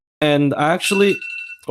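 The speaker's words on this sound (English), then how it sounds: "That's my alarm." A phone alarm beeps in steady electronic tones near the end, brief and partly under a person talking close to the microphone.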